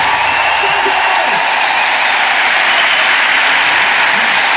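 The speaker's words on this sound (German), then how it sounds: "Bitte einen ganz sauberen Applaus für zwei Österreicher mit Weltmeisterschaft." Broad, steady applause from a large audience fills the whole stretch, dense and continuous without letting up.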